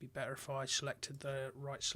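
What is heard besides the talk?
No everyday noises stand out.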